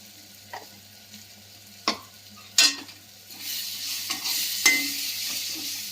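Tomatoes sautéing in a pan with turmeric, chilli, coriander and cumin powder over a low flame, a soft sizzle broken by several sharp scrapes and clinks of a spoon stirring, with the frying growing louder toward the end.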